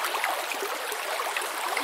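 A river flows with a steady, bright rushing wash of water, close and continuous for under two seconds, then stops abruptly.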